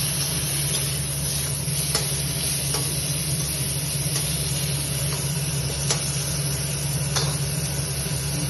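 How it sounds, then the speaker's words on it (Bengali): Eggplant pieces seasoned with salt and turmeric fry in hot oil with a loud, continuous close-up sizzle and hiss, broken by occasional faint stirring scrapes and no talking. "এবার বেগুনটা একটু লাল লাল করে ভেজে নেবো।"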